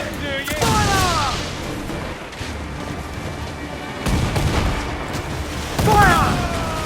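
Ship cannons boom in a naval battle in the video game Assassin's Creed 4 Black Flag, with repeated heavy blasts and rumbling over the sea, while shouted voices call out between the volleys.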